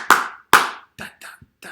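Two sharp, loud hand claps half a second apart, then quieter, shorter claps and taps in a quick rhythm, with no voices.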